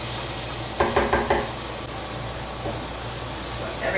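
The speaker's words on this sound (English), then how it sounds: "Add the onions." Onions hit a pan of hot butter and oil and sizzle with a steady hiss, while a few quick stirring knocks sound early on; nearby and moderately loud.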